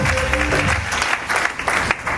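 An audience at a team-building seminar breaks into loud, dense applause, many hands clapping continuously and close, with a voice briefly audible at the start.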